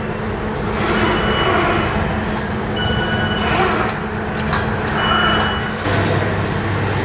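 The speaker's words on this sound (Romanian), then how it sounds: "Doar ne plimbăm prin gară pentru că nouă ne plac foarte mult trenurile." Steady, loud hum of a busy Paris railway station, with train and rail noise rumbling continuously throughout and brief higher tones and shifts in the din near the end.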